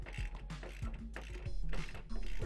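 A trunnion bolt being screwed into the threaded hole of a wall bed's lever arm bracket, producing uneven metallic scraping and clicking turns with a low steady hum underneath, close and fairly loud, no talking.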